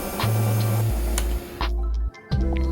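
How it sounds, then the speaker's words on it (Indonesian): An electric mixer whips caramel buttercream at close range, its steady motor drone stepping between pitches and briefly dipping near the end, with no talking. "Matikan mixer, lalu masukkan buttercream ke dalam piping bag."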